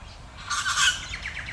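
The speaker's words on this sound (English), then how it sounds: "there's the female's whistling in response" A faint female bird whistles a short series of high notes in response to a male, fairly distant, over a low background rumble, in Wattle Park, Melbourne.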